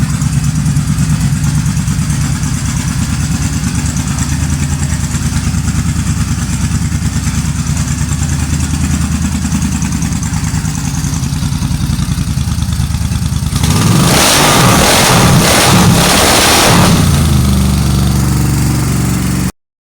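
An old motorcycle engine runs steadily with a loud, rough idle throughout, then a harsher, noisier burst of rumble near the end before it cuts off.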